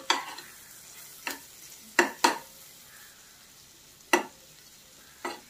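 Green chillies and garlic fry in a pan with a steady low sizzle, while a spoon stirs and scrapes against the metal in about six sharp, separate strokes.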